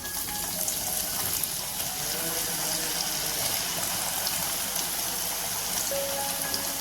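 Jackfruit seeds frying in hot coconut oil give a steady, dense crackling hiss that stays even and continuous throughout, with no voices.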